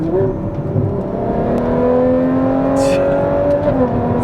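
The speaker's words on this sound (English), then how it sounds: "It sounds like a blend of a V12 Ferrari road car as a base" A Ferrari 812 Competizione V12 with custom exhaust revs loud and high-pitched, holding a rising, screaming tone, steady and close throughout.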